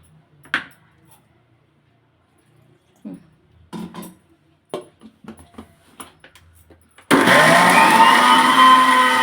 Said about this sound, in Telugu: ఇంకా కొద్దిగా వాటర్ వేసుకొని మిక్సీ పట్టు